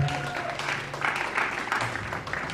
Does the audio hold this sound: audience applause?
yes